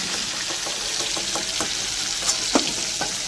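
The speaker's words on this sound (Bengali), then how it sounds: "হালকা ভাজবো, বেশি কড়া করে ভাজবো না" Prawns frying lightly in hot oil for a malai curry, a steady close sizzle with soft scraping stir sounds and occasional spatters as the pieces are turned.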